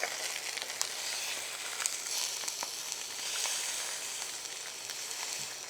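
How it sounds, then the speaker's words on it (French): Veal shanks sizzle in a hot pan, a steady close frying hiss with small crackles and pops, alone with no talk. "on a les jarrets de veau qui sont en train de cuire"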